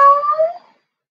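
A single drawn-out cat meow imitated by a voice during the cat pose of a kids' yoga session, close and clear, rising then fading within about a second.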